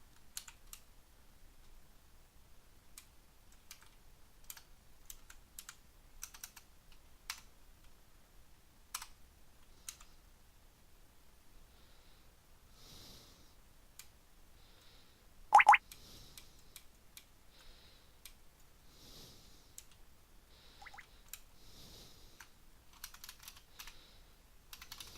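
Typing on a computer keyboard, sparse individual key taps and short bursts spread over the whole stretch, close and quiet, with one louder click in the middle and no talk.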